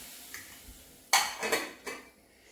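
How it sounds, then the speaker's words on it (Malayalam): A metal cooking pot is lifted and set down on a hard surface, giving a few sharp clanks and rattles close by in quick succession, then fading to quiet. "അടച്ചു വെക്കാതെ ഒരു പാത്രം എടുത്തിട്ട് വെക്കാം"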